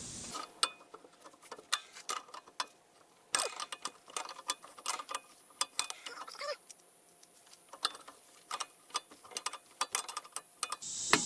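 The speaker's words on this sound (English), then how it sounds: "we're going to use a 14mm ratcheting wrench and the same adjustable pliers to hold it" A 14mm ratcheting wrench working a sway bar link nut on a 2005-2009 Subaru Outback, with rapid clicking pawl bursts and sharp metallic taps, close and fairly quiet, in irregular runs with brief pauses.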